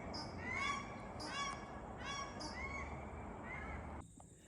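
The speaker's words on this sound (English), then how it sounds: "I gotta love the sound of the ducks." Repeated nasal quacking calls from several ducks, fairly close, over steady windy outdoor background noise, stopping abruptly near the end.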